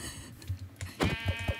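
Sheep in the Minecraft video game bleat in short repeated calls, a few quick close bleats in a row over a soft game background.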